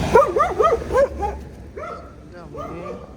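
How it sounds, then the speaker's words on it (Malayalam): Stray street dogs in Tbilisi, Georgia bark in a quick burst of several yaps up close, then a few fainter whimpering yips trail off over a quiet street background. "ഇവിടെ തെരുവിലൂടെ പോകുന്ന പട്ടികളാണത്."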